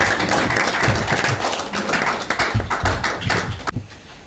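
An audience at a masterclass claps for about four seconds, a dense patter of hands that thins out and stops abruptly near the end.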